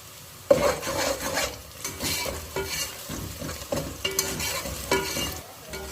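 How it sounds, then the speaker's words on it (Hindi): Onions sizzle and fry in a pan while being stirred, a continuous crackling hiss broken by repeated scraping strokes of the spoon, close and steady with no talking. "अब हम प्याजों को लाइट ब्राउन कर लेंगे"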